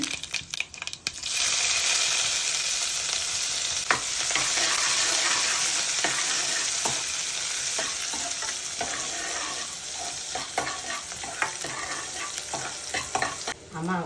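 Mustard seeds splutter and pop in hot oil for tempering a pumpkin thoran, a loud, close crackle with sharp individual pops scattered over a continuous sizzle, and stirring clinks toward the end.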